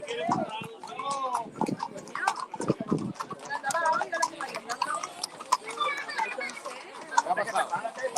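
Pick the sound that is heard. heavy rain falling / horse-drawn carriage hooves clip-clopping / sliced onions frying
horse-drawn carriage hooves clip-clopping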